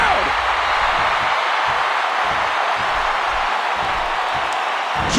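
Arena crowd in the WWE 2K15 wrestling video game roars loudly and steadily throughout, a dense wall of cheering with no pause.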